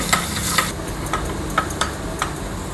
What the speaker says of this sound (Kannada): ಎಣ್ಣೆ ಕಾದಿದೆ, ಚೆನ್ನಾಗಿ ಫ್ರೈ ಮಾಡ್ಕೊಂಬಿಡೋಣ ಇದನ್ನು.